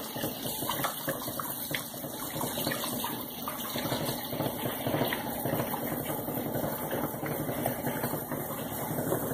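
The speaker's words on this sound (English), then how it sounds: "When you go to wash the pan itself." Water running steadily while a pan from making rebatch soap is washed: a constant close rushing and splashing with faint clinks and a low hum underneath.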